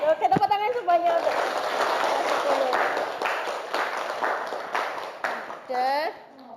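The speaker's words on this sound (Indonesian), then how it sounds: "tepuk tangan semuanya" A school class clapping hands together in a classroom, a loose burst of applause mixed with chatter and a teacher's voice, close and lively, tapering off with speech at the end.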